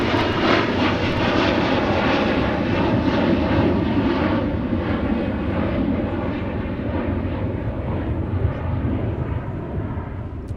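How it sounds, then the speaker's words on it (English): An Embraer jet departs on a windy day at Minneapolis–St. Paul airport, its engines a loud, steady roaring rumble that stays close and fades slightly toward the end. "we had an interrupting Embraer that was making its way out."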